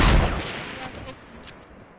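A single sharp sniper shot in an online PS4 shooter fires at the start and trails off into a fading echo, followed by faint softer game noises, with no talk over it.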